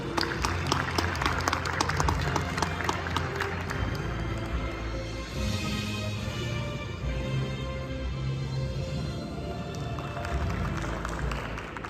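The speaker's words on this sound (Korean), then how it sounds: "역시 뜨거운 박수 부탁드립니다." A forum audience gives a sustained round of applause, dense clapping that fills the room and holds steady throughout the whole stretch.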